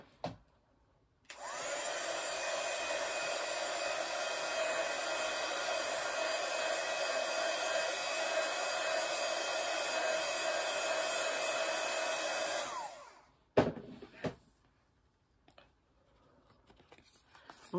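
A steady, loud blowing roar of a heat gun drying paint on a bookmark runs for about eleven seconds, then cuts off, followed by a few faint handling knocks.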